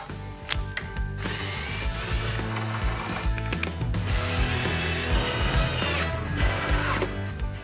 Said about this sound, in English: I can just start drilling a little bit in the middle there